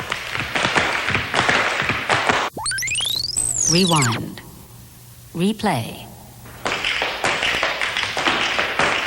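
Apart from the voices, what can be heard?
tap dancing feet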